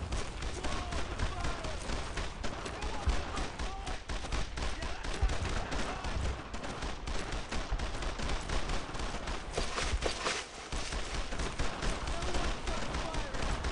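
Heavy sustained small-arms and machine-gun fire aimed at a German MG nest in a World War II shooter, a loud continuous crackling barrage with brief lulls, voices shouting over the shooting.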